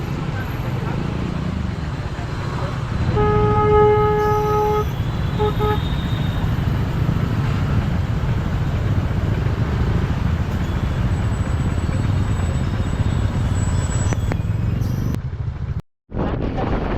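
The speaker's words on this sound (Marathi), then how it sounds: "इथे खूपच जास्त ट्रॅफिक होता" Busy road traffic in a jam on the way to Lonavala rumbles steadily while a car horn toots a few short, repeated blasts early on; a voice talks over the noise.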